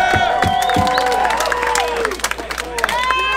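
Crowd at a hardcore punk club show cheering, whooping and clapping after a full set, loud and close, with shouted voices and whistles over dense applause.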